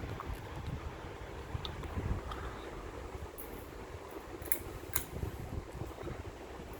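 A 48-inch Coca-Cola ceiling fan winding down in a bedroom gives a soft, steady airy whoosh with slight rushing swells and a few faint ticks, and no voices.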